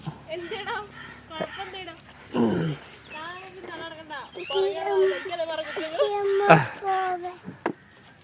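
A dog gives short barks and whimpering whines close by, mixed in with people talking nearby.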